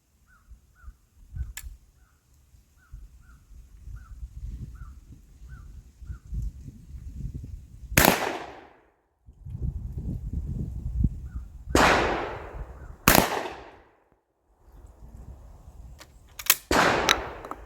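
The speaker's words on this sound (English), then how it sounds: "So we'll go ahead and shoot both of these together for the sake of brevity." Shotgun with an open choke and a full choke fired outdoors while patterning: several sharp, loud blasts spread across the stretch, each ringing out briefly, with quieter rustling and faint background noise between shots.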